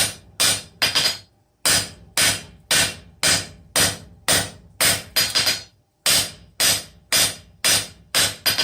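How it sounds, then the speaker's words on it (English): Steady, ringing blacksmith's hammer blows on a metal bar laid flat on an anvil, struck one after another in a quick regular rhythm with short pauses between groups, close and loud. "And my hammer coming in at the tangent."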